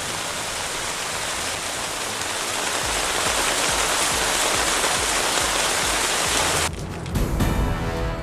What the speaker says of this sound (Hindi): जम्मू कश्मीर के कई इलाकों में जोरदार बारिश